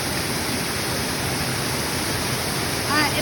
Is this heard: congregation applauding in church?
no